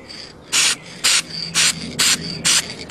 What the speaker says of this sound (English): Gotta get used to this spray bomb. It comes out fast, really fast.